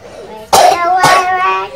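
A sick girl coughs twice in quick succession, close and loud, followed by a brief breathy vocal sound.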